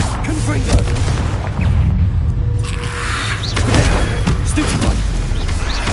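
A Confringo fire spell from Hogwarts Legacy bursts with loud, booming blasts over dense, continuous combat noise, with a voice mixed in.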